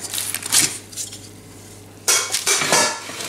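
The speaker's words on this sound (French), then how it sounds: "Là je vais ouvrir le moule à charnière." Springform cake pan being unlatched and opened around a freshly baked génoise sponge, giving a few sharp metallic clicks and clanks in two bursts, close and alone with no talking.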